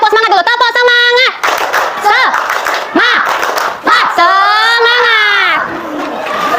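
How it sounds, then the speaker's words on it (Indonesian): A school class does a rhythmic spirit clap led by a teacher: bursts of patterned group clapping mixed with loud children's voices chanting and calling out. "kita tepuk semangat dulu. Tepuk semangat."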